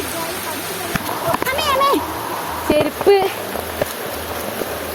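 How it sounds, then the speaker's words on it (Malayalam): Heavy rain pours in a steady, dense hiss that fills the whole stretch. People talk and call out over the downpour. "പെരും മഴ അയ്യോ നല്ല മഴയാണ് എല്ലാവരും ഇറങ്ങി ഓടി പോരുന്നുണ്ട്"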